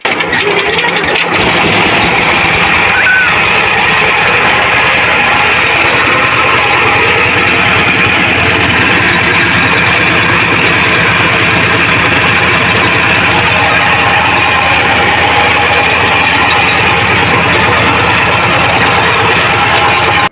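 A machine that turns rice into chips runs continuously with a loud, close, steady engine-like drone and mechanical rumble, with no talk.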